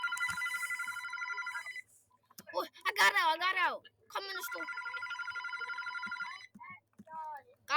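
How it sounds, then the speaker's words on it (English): An old-style telephone bell rings in long trilling bursts, cut off while a person speaks excitedly, then rings again clearly in the background. "Guys, the phone is ringing. We should pick it up."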